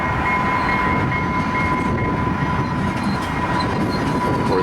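A Utah Transit Authority train passes in Salt Lake City with a steady, loud rumble and a faint high whine throughout, heard outdoors with no talk.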